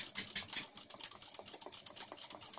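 A basic domestic sewing machine stitching embroidery, giving a rapid continuous mechanical clatter of needle strokes at close range, fairly quiet overall.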